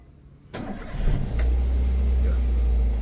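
Manual car engine started with a turn of the key: a click and brief cranking give way to the engine catching and settling into a steady, loud low idle.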